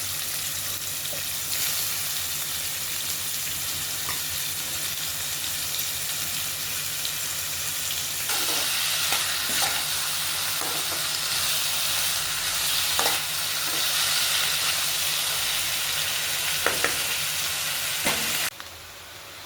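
Potatoes fry in a pan with a steady, close crackling sizzle and occasional scraping stirs and clicks, growing a little busier in the second half before cutting off abruptly near the end.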